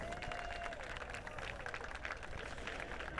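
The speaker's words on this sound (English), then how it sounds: "let's give them a round of applause" A crowd at a dirt-track speedway applauds military servicemen, a faint, distant wash of clapping and cheering that holds steady through the whole stretch.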